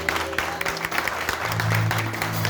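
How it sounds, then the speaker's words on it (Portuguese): A church congregation applauds, steady clapping sustained throughout at moderate level, with a low tonal hum or music underneath. "Aplaude o Senhor."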